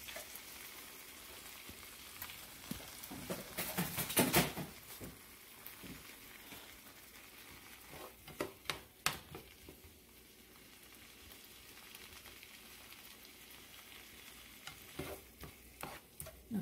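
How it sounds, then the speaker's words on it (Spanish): Shrimp frying in a pan with garlic and butter, giving a soft, steady sizzle with bursts of stirring and scraping clatter, close and moderately quiet, with no talking. "we're gonna throw the shrimps already. And poquito garlic and butter."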